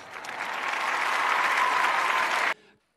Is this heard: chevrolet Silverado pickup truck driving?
no